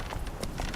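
Horse hooves clip-clopping in the video game Witcher 3, a quick run of soft, close hoofbeats over a steady ambient bed, with no talking.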